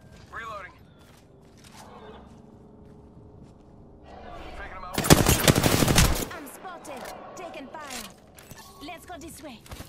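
Automatic gunfire in Apex Legends: a dense, loud burst lasting about a second, framed by quieter movement and mechanical clicks, with a voice talking at times.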